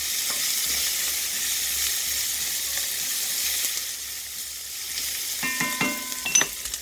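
Garlic and chilies sizzle in a pan for a Bengali-style fish curry: a loud, even frying hiss close by, with a few sharper spits and clinks near the end and no talking.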